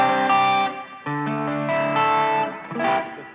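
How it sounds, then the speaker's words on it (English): An electric guitar runs through an overdrive pedal on a church pedalboard, playing a short sequence of sustained, thickly driven chords with a slightly gritty but not harsh tone. "I do use a lot of overdrive"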